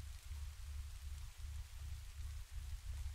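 Steady rainfall in the horror video game Reprobate, a soft continuous hiss with a low rumbling undertone, fairly quiet and unbroken, with no voices.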